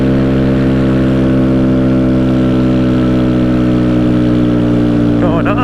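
A Kawasaki Z125 Pro motorcycle engine held at full throttle around 55 mph, a steady, loud mid-pitched drone with strong even harmonics that holds constant throughout, with a brief pitch wobble near the end.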